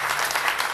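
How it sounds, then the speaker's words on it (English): Conference audience applause at a men's issues event, a dense, loud, even burst of many hands clapping together, lasting under a second. "I was hoping you would clap because that's how I feel about it"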